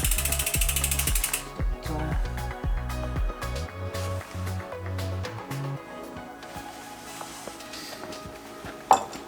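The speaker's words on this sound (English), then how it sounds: "So you're just going to pedal it around until the quick link is at the top." An e-bike's freewheel ratchets as the pedals are turned backward by hand, a close run of rapid clicking bursts that slows and fades, ending in a sharp metallic tap.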